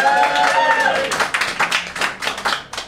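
Studio audience at a comedy panel show clapping and cheering on cue, starting with a voice fading out, then a short burst of irregular, fairly close hand claps.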